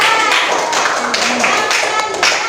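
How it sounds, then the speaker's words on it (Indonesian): Schoolchildren in a fourth-grade classroom clap for a classmate group, a brief burst of close, busy clapping in uneven rhythm with some young voices mixed in. "Tepuk tangan buat kelompoknya Aziza."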